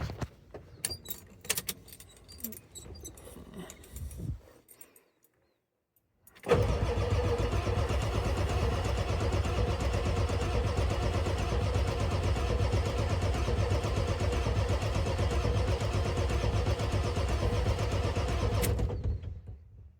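A 1990 Ford F250 engine cranks steadily for about thirteen seconds without catching, loud and close, after some handling noises and a brief pause.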